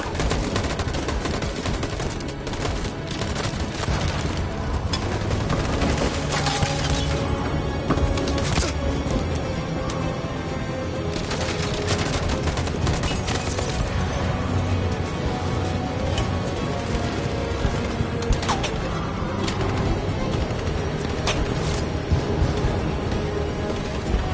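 Dense, continuous gunfire in a video game about suppressing a slave uprising in Belarus, rapid automatic bursts and overlapping shots filling the whole stretch at steady loudness with no talk.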